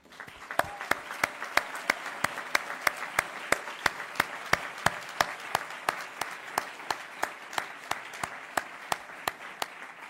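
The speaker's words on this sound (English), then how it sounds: "Please give yourself a round of applause." Students at a school ceremony are applauded with a quiet, even clapping pattern of sharp beats at about three per second, sounding like a crowd clapping in unison, steady for the full span.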